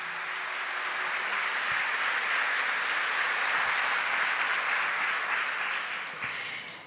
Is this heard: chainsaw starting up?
no